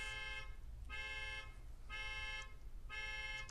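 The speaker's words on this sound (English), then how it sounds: "Someone's car alarm just went off." A car alarm blares in repeating pulses, about one blast per second, steady and fairly loud over a low background rumble.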